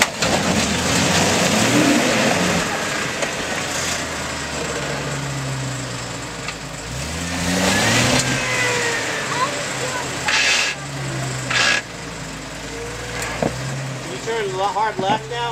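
A 1999 Jeep Cherokee XJ crawls up rocks on an off-road trail, its engine revving in uneven surges and dips at moderate level, with people talking and calling out directions over it.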